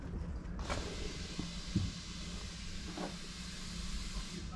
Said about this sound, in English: electric windows all round